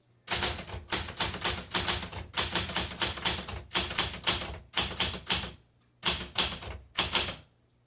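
Keys clacking on a 1978 Smith Corona Classic 12 manual typewriter, close and loud, in quick bursts of strikes broken by short pauses, with a longer gap before the final few keystrokes.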